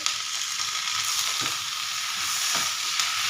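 Onions fry in a pan as a tomato is added, giving a loud, steady sizzle and crackle with a few soft stirring scrapes and no voices.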